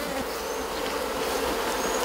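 Bees buzz in a steady, dense drone, close and constant throughout with no voices.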